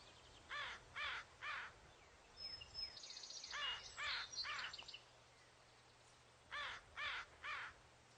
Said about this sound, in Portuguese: Corvos que gritam juntos